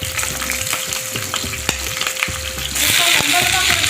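Potato strips hit hot oil in a pan and sizzle steadily while a spatula scrapes and stirs with repeated clicks, the frying hiss growing louder in the final second.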